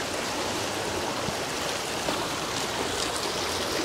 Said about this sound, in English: This is how you wash your shoes.